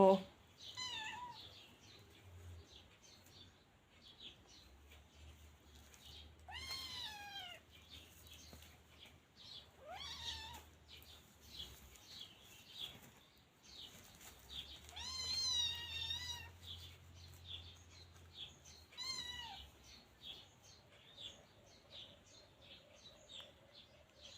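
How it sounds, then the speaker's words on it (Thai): A teething Scottish Fold kitten gives several short, rising meows spread through the scene, fairly close but soft, while a person talks quietly in the background and low rumbles come and go. "ตอนนี้ก็ดูแมวไปก่อนนะคะ"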